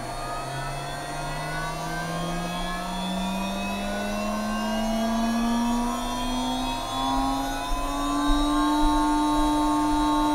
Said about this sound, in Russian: А вот так работает асинхронник с коротко замкнутым ротором.